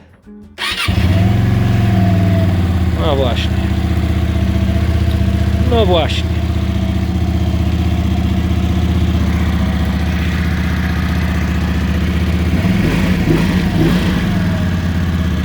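A QJ Motor SRV12 V-twin motorcycle engine fires up and settles into a loud, steady, throbbing idle up close, with someone speaking briefly over it.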